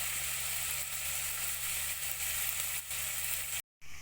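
Dried fish fries in a pan for a Sri Lankan-style curry, giving a steady close sizzle and crackle with a faint low hum underneath, cut by a brief silent gap near the end.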